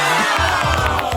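A brief, loud burst of crowd cheering, with excited shouts and whoops overlapping for just over a second.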